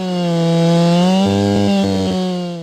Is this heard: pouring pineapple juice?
no